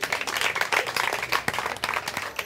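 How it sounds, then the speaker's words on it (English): Applause and clapping for a contestant at a Miss Malaika 2019 cultural pageant, a dense crowd of hands sustained throughout without pause. "A round of applause for her."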